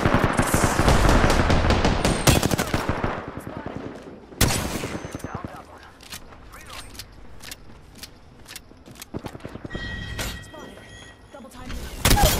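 Video game gunfire, rapid automatic bursts and single shots cracking loudly in the opening seconds, then sparser, thinner shots with gaps between them, and a final burst at the end.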